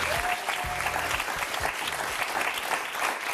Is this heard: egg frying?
no